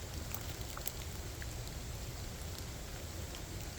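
Steady rain pours down outdoors, a dense continuous hiss of drops on surfaces with no breaks.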